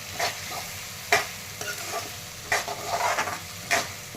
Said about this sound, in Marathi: शेंगा टाकलेले आहे तेलामध्ये